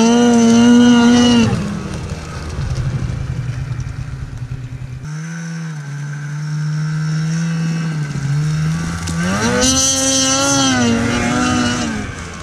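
An 850 snowmobile engine revs hard while ridden across a snowy field, its loud buzzing drone rising and falling in pitch through several throttle surges, close and continuous with no talk.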